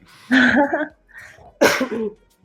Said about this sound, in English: Sorry, everyone, for the coughing.